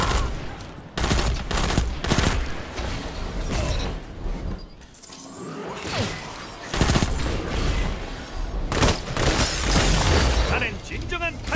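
Gunfire in the video game Destiny 2, sustained bursts of shots and booms over a busy battle mix, with game voices talking over it.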